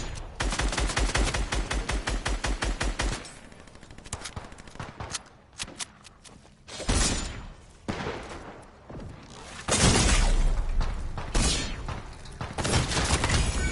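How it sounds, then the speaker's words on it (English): Gunfire in a Fortnite squads match: rapid automatic bursts, then scattered single shots and further volleys, loud and close, with footsteps and game noise between. "Where are they shooting from?"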